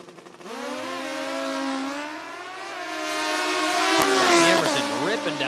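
Hayabusa drag motorcycle tearing down the strip at a Midwest sportsman race, its high engine note rising through gear changes into a loud wail, with a sharp click near the end and a voice faintly underneath.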